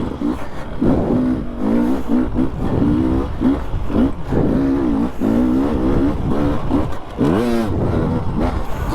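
Dirt bike ridden hard around a wooded motocross track, engine revving up and down through repeated gear changes and throttle bursts, loud and close, with no talking.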